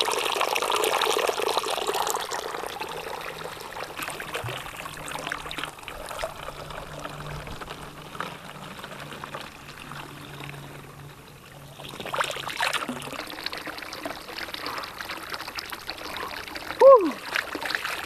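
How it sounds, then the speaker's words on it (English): Cold spring water flowing steadily in a mountain canyon on a summer backpacking trip, a continuous broadband rush with a louder splash near the end, under intermittent talk. "Nice cold spring water."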